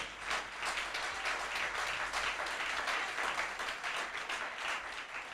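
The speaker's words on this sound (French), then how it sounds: "Est-ce que vous pouvez vous applaudir vous-même?" Church congregation applauds at a French-language repentance service, a fairly quiet but continuous wash of many hands clapping, dense and even for several seconds with no voices over it.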